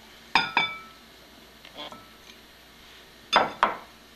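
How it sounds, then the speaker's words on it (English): A utensil clinks against a bowl while chickpeas are mixed with potatoes for chola tikki. Two pairs of crisp metallic taps sit near the start and end, with softer scraping between them. "Now I'm going to mix them"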